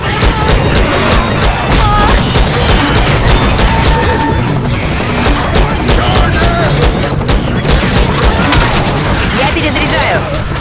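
Gunfire and a grenade blast roar through an online shooter match, a dense, loud, continuous barrage of shots and booms with voices calling out underneath.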